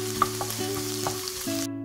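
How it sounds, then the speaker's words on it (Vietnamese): Garlic frying in hot cooking oil in a pan gives a steady close sizzle with a few soft stirring knocks, and a constant low hum runs underneath until the sound cuts off near the end. "Khi dầu nóng thì mình cho tỏi vào phi thơm lên."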